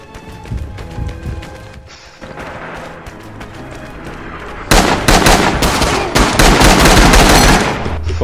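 Bursts of gunfire in the Rising Storm video game, scattered single shots at first, then a loud, dense stretch of rapid automatic fire and crashing impacts in the second half.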